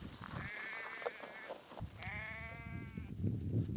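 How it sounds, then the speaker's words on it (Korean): Sheep and goats on a Mongolian tundra nomad camp in winter, several close wavering bleats in two bursts over low murmuring voices and ambient noise. "배 앞에 무언가 달고 있는 양과 염소."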